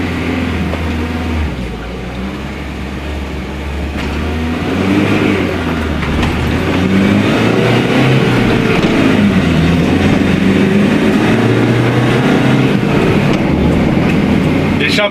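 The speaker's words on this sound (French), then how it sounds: "L'échappement est tombé, je l'entends." A 1982 Renault Trafic engine runs with its exhaust fallen off, a loud, rough, continuous drone that swells and holds steady as revs rise, close by, with someone talking faintly underneath.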